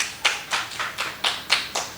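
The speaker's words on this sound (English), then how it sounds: "let us give her a round of applause" Audience applause at a branch opening ceremony for an insurance agency, close rhythmic clapping with about eight evenly spaced claps, crisp and fairly loud, no speech.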